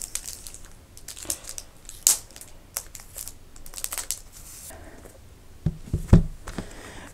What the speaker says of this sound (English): I will quickly unwrap that